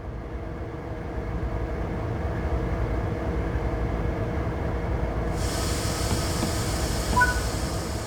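Diesel-electric ES44C4 locomotive in Train Sim World 3 on Cajon Pass pulling away after the brake is released: a steady low engine rumble and rolling hum with a hiss, rising and brightening midway, no talk.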